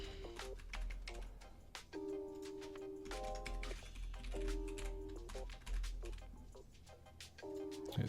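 A password being typed on a computer keyboard: scattered light keystroke clicks in short irregular runs, faint and close, over a quiet room with some tonal beeping in the background.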